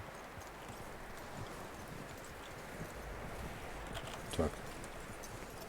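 Horse hooves clip-clopping in Red Dead Redemption 2, a quiet, steady plodding rhythm of hoofbeats over soft ambient rustle, with a brief spoken word near the end.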